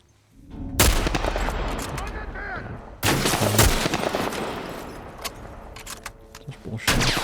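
Gunfire from Ellie in The Last of Us Part 1, a few loud sharp shots spaced seconds apart, each with a booming tail, over ambient game sound and faint voices.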